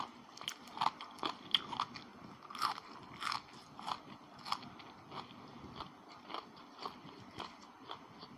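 Crisp crunching bites and chewing of spicy Luang Prabang papaya salad, close and fairly quiet, repeating in an irregular rhythm for several seconds.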